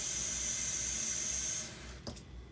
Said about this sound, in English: It calls for 2 cups of water.